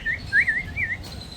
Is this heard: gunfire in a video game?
no